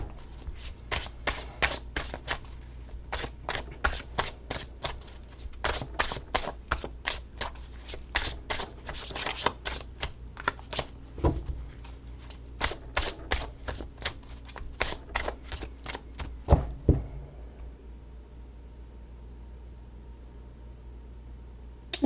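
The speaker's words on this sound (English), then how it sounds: "Let's take out some more cards and see what we've got." Tarot deck being shuffled and cards drawn during a live reading, with rapid crisp riffling and snapping flicks in a dense run that stops near the end, leaving quiet room tone.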